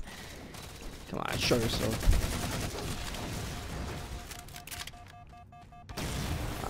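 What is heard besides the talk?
grenades exploding in Halo 4 video game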